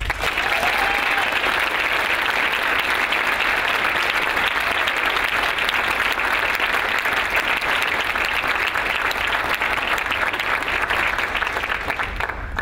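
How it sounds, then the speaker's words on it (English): A long, sustained round of applause honoring a retiring Chief Master Sergeant at his retirement ceremony, dense clapping from a crowd holding steady throughout. "I'd like all of us to honor Chief with a round of applause"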